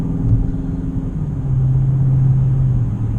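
A Chevrolet Camaro cruising on the road, heard from inside as a steady low engine rumble and road drone that stays constant, loud and close, with no talking.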